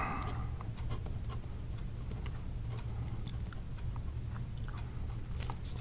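A pen scratches across paper while a math proof is written out, soft, close scratching strokes and ticks over a steady low hum, with no speech.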